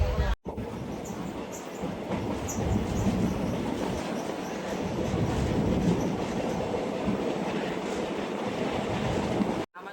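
The Madgaon Express passenger train runs on the Konkan line near Chiplun with a continuous heavy rumble and rhythmic clickety-clack of the wheels heard from inside a coach, with faint voices underneath.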